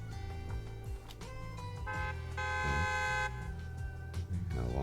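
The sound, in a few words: truck horns honking in Zenless Zone Zero video game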